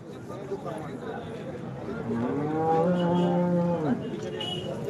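Cows at a busy cattle market in Sangola, with one long, loud, close moo rising and falling over a steady murmur of crowd noise and background chatter.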